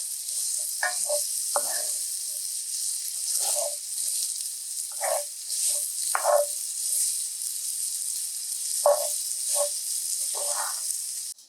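Potatoes and vegetables for breakfast empanadas sizzle as they are sautéed in a pan, a bright continuous hiss punctuated by repeated scraping stirs of a utensil.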